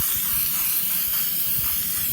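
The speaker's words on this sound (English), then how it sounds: "I'm gonna go ahead and spray" A spray can sprays triple-thick crystal clear gloss glaze onto a painted rock in one steady, close, loud hiss that runs unbroken from start to end.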